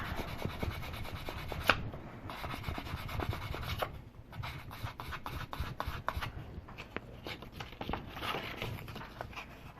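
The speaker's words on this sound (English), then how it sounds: "just keep sanding until you get that cleaned up" Sandpaper is rubbed against a wire-wrapped earring in quick repeated strokes, a close scratchy rasping that pauses now and then before starting again.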